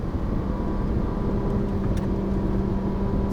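A car engine drones steadily at high revs on a driving course at Lohéac, a constant loud hum with no pauses and no speech.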